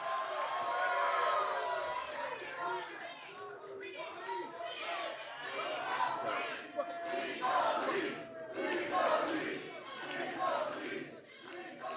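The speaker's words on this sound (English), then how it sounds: "that is the sound of enthusiasm for the tag team of Dirty Dango And Joe Hendry." A large wrestling arena crowd at an IMPACT event cheers and chants loudly and continuously, with rising surges of yelling and sustained roar throughout.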